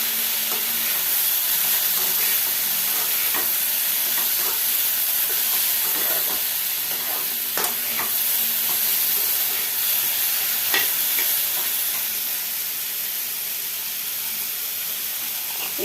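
Ginger paste fries in a pan while being stirred, a continuous bright sizzling hiss with scattered utensil clicks and scrapes that stays loud and close for the whole stretch.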